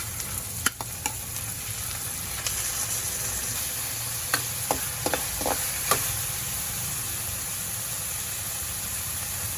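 Chicken breast frying in a pan with onion and garlic, a steady broadband sizzle with scattered utensil clinks and stirring scrapes throughout, close and continuous, no talk.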